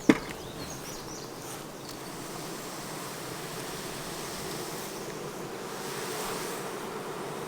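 Honey bees hum around a hot summer beehive, a soft continuous droning buzz heard outdoors at moderate distance, with a brief knock at the start and no talking.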